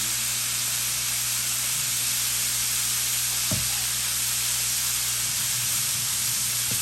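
Oil sizzles and hisses steadily in a pan as sausages cook, a continuous loud frying noise with one brief sharper pop midway, no talking.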